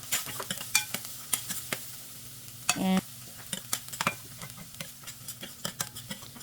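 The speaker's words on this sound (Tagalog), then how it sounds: "igigisa ko na yung mga ibang sangkap. Lalagyan ko na ng olive oil and then garlic at saka yung chili sauce." Garlic and other ingredients sauté in olive oil with chili sauce in a pan, a soft sizzle under repeated clinks and scrapes of a stirring utensil, one brief louder clatter midway.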